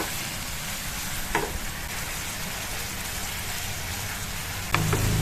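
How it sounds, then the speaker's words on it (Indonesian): Banana pieces cook with sugar and margarine in a pan, giving a loud, continuous frying sizzle close by, with a couple of brief utensil scrapes against the pan. "Masak sampai gulanya itu udah larut ke dalam pisang dan pisangnya juga sudah lunak daripada yang tadi."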